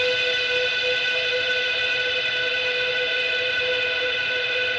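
A single sustained guitar note, a B fretted at the 12th fret through a heavy reverb effect, rings with dense harmonics and a long, even wash of decaying trails that holds at steady loudness throughout.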